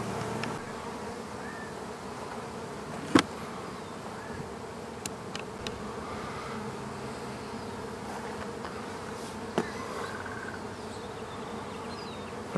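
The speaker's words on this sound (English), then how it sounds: "There's actually a cluster of bees in that orange peach tree." A sizable cluster of honey bees hanging in an orange peach tree gives off a steady, dense buzzing drone, with a few sharper clicks and taps here and there and no talking.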